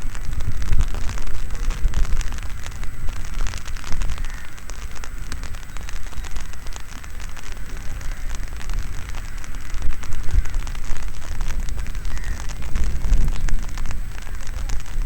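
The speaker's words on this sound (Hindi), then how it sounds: "बूंदाबांदी अब कुछ तेज होने लगी है" Steady drizzle turning heavier at an outdoor winter cricket match in Jammu, a continuous hiss of rain on surfaces with occasional faint knocks.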